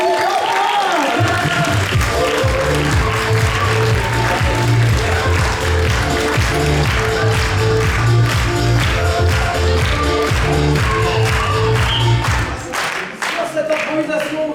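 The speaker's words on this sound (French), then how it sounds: "on applaudit bien fort" Loud, sustained applause and cheering from a theatre audience at an improv match fills the room, a dense wash of clapping that runs without pause for about twelve seconds before fading out.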